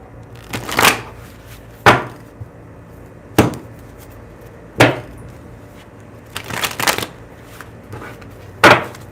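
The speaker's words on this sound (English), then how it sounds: "Still shuffling." Tarot cards being shuffled during a live reading, heard as a series of sharp, separate riffling snaps and slaps at irregular intervals, close and fairly loud with no talk over them.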